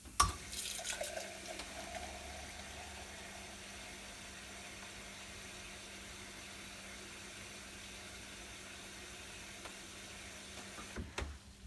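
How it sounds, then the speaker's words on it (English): A soft drink pours steadily from a dispense system into a glass, a constant gentle rush with a clink at the start and end, no talking. "and then pour one more full glass"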